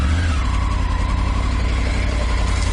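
A touring motorcycle engine runs loud and close in first gear with the clutch pulled in, holding a steady rumble that rises slightly in pitch.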